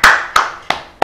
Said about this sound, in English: I should clap for you.